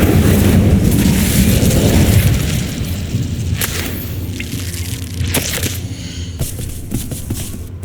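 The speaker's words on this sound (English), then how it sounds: "Incendio." An Incendio fire spell in Hogwarts Legacy: a loud roaring burst for about two seconds that fades into a lower rumbling hum, with a few sharp cracks scattered afterward.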